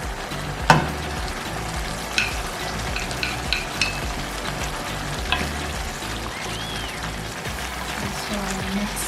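Garlic, turmeric and paprika fry and get stirred into a beef stew, a continuous close sizzle broken by several sharp utensil clinks against the pot.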